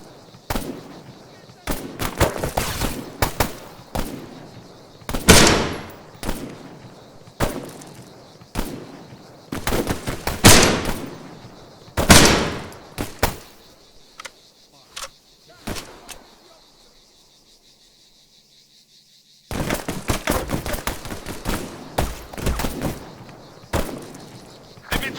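Repeated bursts of rifle and machine-gun fire in Arma 3, aimed at an enemy soldier. Loud, close volleys come in uneven clusters, with a brief lull before a final sustained burst.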